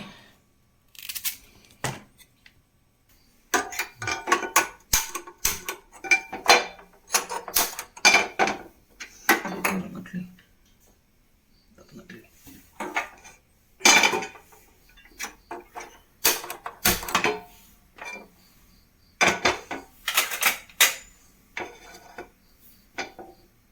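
Plantain and cassava are cut with a knife in a home kitchen: sharp, close chopping clicks in irregular bursts with quiet pauses between them and no talking.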